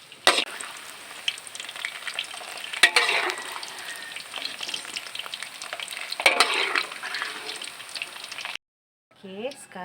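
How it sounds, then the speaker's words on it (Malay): Tempeh sizzles and crackles steadily as it fries in hot oil close by, with occasional sharper pops and spatters, then a brief silence before faint clinking. "yang pertama sekali kita nak goreng tempe"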